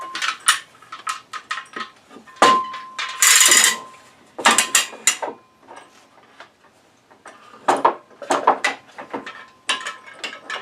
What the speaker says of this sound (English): got a long clamp here we can use.